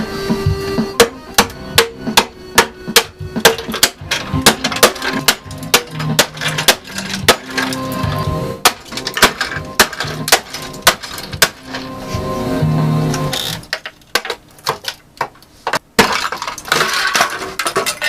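Repeated hammer blows crack and smash a speaker, sharp impacts landing in an irregular rhythm with clinking debris, close and loud.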